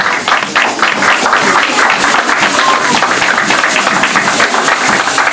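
A church congregation applauding to acclaim Jesus during a French-language worship service, loud dense clapping that carries steadily from start to finish with faint voices mixed in.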